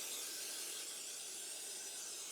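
A steady, faint aerosol hiss of brake cleaner sprayed onto Honda Ruckus scooter parts such as freshly cleaned clutches, one continuous burst heard up close without talk.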